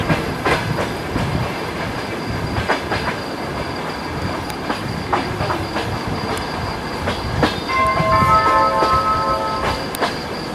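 A ChS4 electric locomotive hauling a passenger train in Kyiv, heard up close with steady rumbling and rhythmic clickety-clack of wheels over rail joints, plus a brief squealing tone near the end.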